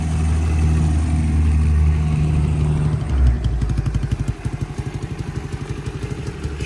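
The small single-cylinder engine of an Ice Bear 125 CT70 clone minibike with a newly fitted Nibbi carburetor idles while warming up, a close, steady chugging putter whose firing pulses grow more distinct and uneven toward the end.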